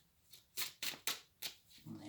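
Tarot cards being shuffled by hand, four or five brisk riffling bursts close up, ending with a soft murmur of a voice.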